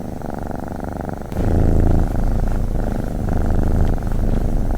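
Cat-like purring from enchanted houses in a fantasy village: a close, continuous low rumbling purr that swells louder after about a second and carries on steadily, with no talking.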